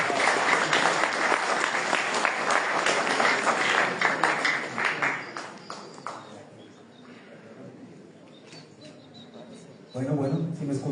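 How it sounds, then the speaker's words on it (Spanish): Audience applause for a doctor's talk at an academic expo: dense clapping that is strong for about five seconds, then thins and fades before a voice begins speaking. "Le damos un fuerte voto de aplauso al doctor Alejandro Mendoza Resendí."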